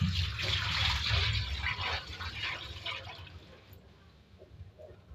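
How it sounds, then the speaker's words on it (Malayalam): Water is drained out of a clay pot being seasoned, a loud continuous gushing pour up close that thins to a trickle and then fades toward the end. "ഇനി നമുക്ക് ഈ വെള്ളം ഊറ്റിക്കളയാം"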